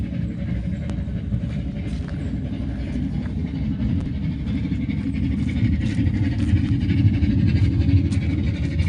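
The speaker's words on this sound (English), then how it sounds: "And there's the children's train" A children's miniature train rolls past at a Christmas light display in a woodland garden, giving a steady low rumble and clatter that grows slightly louder toward the end, with no talking.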